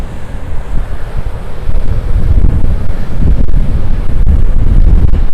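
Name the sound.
strong wind at a beach campsite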